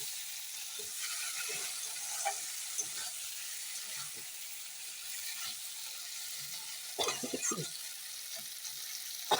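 Spice masala sizzles and fries in a pan for a tangra fish curry, a steady close hiss with occasional stirring scrapes and a few louder spatters near the end, with no talking.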